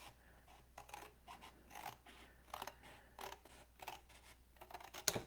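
Scissors snipping through cardboard to cut out a craft image, a quiet series of irregular crisp cuts and scraping blade sounds spread across the moment, fairly close and faint, with no talking.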